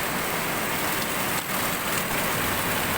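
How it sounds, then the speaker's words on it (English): Heavy rain pours steadily outdoors, with water gushing from a spout near a tower built of welded pipe, a dense continuous wash of noise throughout. "The water's just pouring out of that spout."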